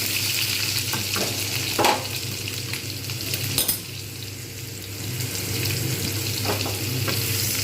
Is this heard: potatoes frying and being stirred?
yes